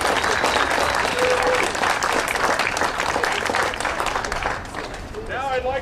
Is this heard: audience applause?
yes